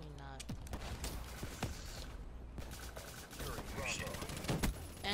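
Video game gunfire: bursts of rapid shots and scattered single cracks over a busy, noisy mix, with a voice talking at points throughout.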